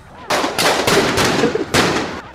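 Several loud, sharp gunshot bursts in a firing squad scene in Sly Cooper, spaced unevenly over about two seconds with no talking.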